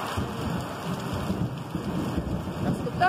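Steady heavy rain with low rumbling thunder during a nighttime thunderstorm, heard from a covered porch, a continuous wash of rain and rolling thunder throughout.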